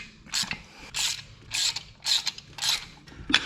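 A ratchet turns spark plugs into a 1993 Toyota pickup engine, giving five or six close, evenly spaced bursts of clicking as the handle swings back and forth.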